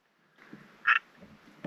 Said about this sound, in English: Got a little frog over there.